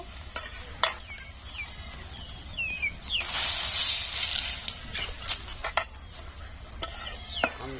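Onions fry in a pan for a Bengali fish and potato dish, soft sizzling under repeated scraping and clinking strokes of a spoon stirring against the metal, with faint bird chirps in the background.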